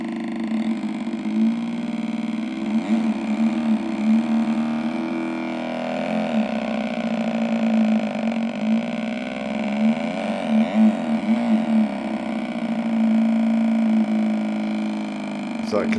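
A homemade electronic fake motorcycle engine sound generator, driven by oscillators, puts out a continuous buzzing, droning hum with slowly wavering pitch and faint lower thumps, heard close and steady for the full length.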